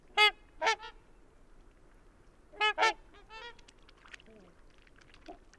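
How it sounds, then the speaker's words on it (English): Trumpeter swans call in winter, loud honking notes in pairs and short bursts separated by pauses, fairly close against a quiet background. "in the wintertime, it's these beautiful trumpeter swans."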